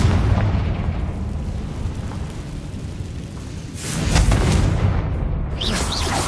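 Confringo fire spell blast in Hogwarts Legacy, a loud rumbling explosion swelling out of dense background noise, with crackling bursts trailing after.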